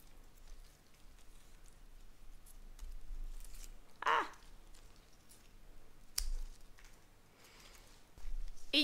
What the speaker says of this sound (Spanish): Entonces voy a cortar las hojas secas.